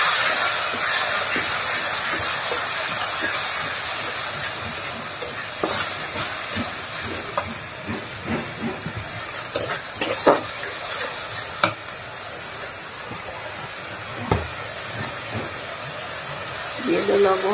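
Onions and spices fry in a pan for a pangas fish curry, giving a steady sizzling hiss with scattered clinks and stirring scrapes, and someone talks over it.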